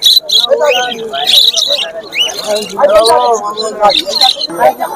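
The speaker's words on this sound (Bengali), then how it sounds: "এখানেও কিছু লাভবার্ড রয়েছে, আমরা দেখিয়ে দিচ্ছি।" Lovebirds and cockatiels at a pet bird market in Uluberia: loud, close chirps and shrill calls mixed with a busy human voice talking over them.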